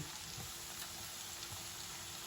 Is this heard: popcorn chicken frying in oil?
yes